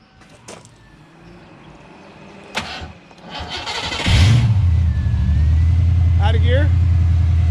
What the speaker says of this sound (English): gonna fire the motor